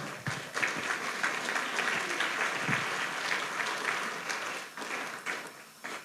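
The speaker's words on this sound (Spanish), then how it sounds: "Dense un aplauso porque ustedes sí aman a su prójimo" A congregation at a church sermon applauds for about six seconds, a dense, steady wash of many hands clapping with no talking over it.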